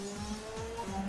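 A racing motorcycle in the PS2 game MotoGP, heard as a quiet engine tone rising and sliding in pitch over about a second, with no talking.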